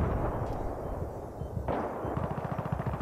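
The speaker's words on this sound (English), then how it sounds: "Grenades everywhere." Grenade explosions and gunfire in the Battlefield 3 war game come as a dense, rumbling barrage of low blasts and rapid bursts. A sharper blast lands midway, then rattling fire continues loudly.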